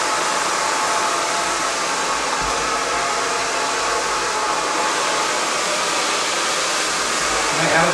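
A handheld hair dryer blowing hair dry at home, a loud, steady close-up whoosh of rushing air that holds unbroken throughout, with only a slight change at the very end.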